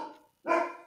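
A dog gives two quick barks close by at modest volume, the second fuller and louder than the first, with a short quiet gap between them.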